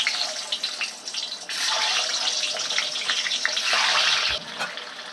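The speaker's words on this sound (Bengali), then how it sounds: "তেলটা গরম হয়ে গেছে, এবার আমি একটা একটা করে ডিম দিয়ে দেব।" Eggs coated in salt and turmeric hit hot oil in a pan, giving a loud, steady sizzling hiss that swells slightly as frying continues, with a brief soft knock near the end and no talk.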